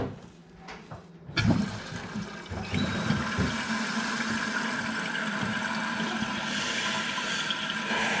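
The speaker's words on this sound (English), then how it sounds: "So let's turn on the water, conveniently located right there." Water valve opened to refill a Kohler toilet tank: a few small clicks, then a sudden loud rush of water that settles into a steady hissing flow filling the tank.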